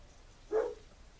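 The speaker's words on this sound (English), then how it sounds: "My dogs are just going nuts." A dog lets out one short, sharp bark or yip, moderately loud against a quiet background, with no other barking or talk.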